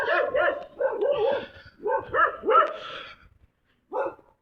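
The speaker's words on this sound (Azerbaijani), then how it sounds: "Ancaq burada biz həmişə buranın gedəndə it hürür." A dog barks in a rapid series of close, loud yaps and bow-wows at a roadside spot, with short pauses between bursts and a final bark after a brief silence.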